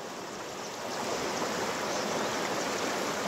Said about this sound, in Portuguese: Ele tá tentando ir lá buscar a canoa. Eu tô morrendo de medo. Que é uma correnteza ali